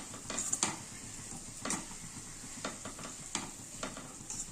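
A spoon scrapes and stirs beetroot fry mixed with flaxseed powder in a pan, giving a few soft intermittent scrapes and taps over a faint steady sizzle.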